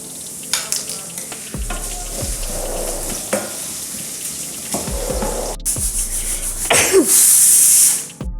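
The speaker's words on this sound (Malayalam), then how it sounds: "ഉള്ളി നന്നായി വതങ്ങി വന്നിരിക്കുകയാണ്" Onion, green chillies and salt sautéing in a pan for potato masala curry, a steady sizzle broken by several bursts of stirring and spatula scrapes, closer and louder near the end.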